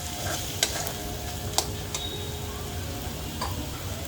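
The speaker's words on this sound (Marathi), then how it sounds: "चांगलं हलूया हा मसाला तेल सुटेस पण चांगला भाजून घ्यायचा आहे" Misal masala stirred and roasted in oil until the oil separates, a soft continuous sizzle with a few sharp ticks of a spoon against the pan, close and fairly quiet.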